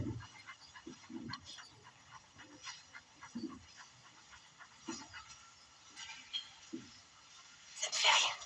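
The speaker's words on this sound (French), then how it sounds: "Tu vois ce chien, il a voulu me mordre." A dog whimpers and pants in short, faint, irregular yelps and whines, with a brief louder sound near the end and some low talk in the background.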